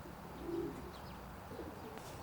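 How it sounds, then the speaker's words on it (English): Racing pigeons coo softly inside a two-section young bird loft with Sputnik traps, a low murmuring coo rising briefly near the start amid faint background ambience, with no talking. "This is George's very smart young bird loft. It consists of 2 sections and once again the birds are trapped through Sputnik traps"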